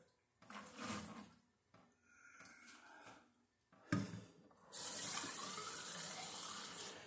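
Homemade strawberry wine is poured back into a vessel, starting with soft handling clunks and short trickles before a steady, splashy liquid stream fills the last couple of seconds.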